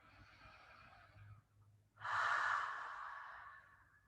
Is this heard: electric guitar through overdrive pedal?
no